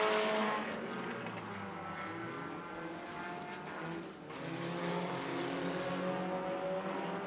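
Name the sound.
race cars lapping on a race track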